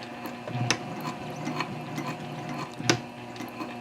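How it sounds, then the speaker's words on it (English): A sewing machine back stitching over a stress point on a handbag tote, with a few mechanical clicks and whirring bursts of stitching, fairly close and alone. "this is going to be a little bit of a stress point, so I'm going to back stitch over it a couple of times"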